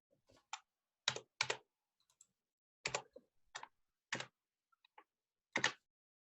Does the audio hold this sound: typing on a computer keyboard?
yes